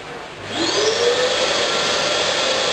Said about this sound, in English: The pond vacuum cleaner is now turned on.